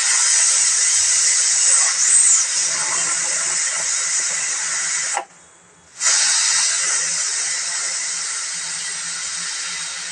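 Loud, steady steam hiss from a pressure cooker of boiling dal (lentils) in a home kitchen, continuing for several seconds, briefly cut off midway, then resuming just as strong.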